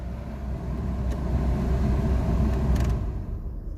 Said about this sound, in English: we can turn the car off now because it's missing like crazy